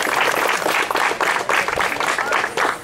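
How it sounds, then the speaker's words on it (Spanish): A crowd at a municipal uniform presentation in Totogalpa applauds women who became departmental champions, with dense, steady clapping close by and pulsing slightly throughout. "Un fuerte aplauso para estas mujeres"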